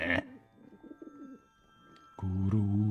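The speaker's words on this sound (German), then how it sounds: "3 weiße Tauben." White doves in the video game Skyrim coo in a short low burst at the start and again in a louder, steadier stretch near the end, with quiet murmuring game ambience between.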